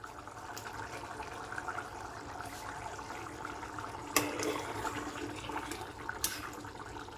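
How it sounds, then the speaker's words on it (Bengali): Egg curry boils in an open pressure cooker, giving a steady, quiet bubbling and watery hiss with a few sharper clicks and pops. "আর 3 মিনিটের মতো বন্ধুরা আমরা এটা ফুটিয়ে নেব।"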